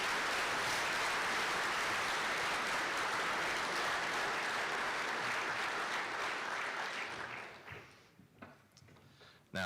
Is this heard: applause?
yes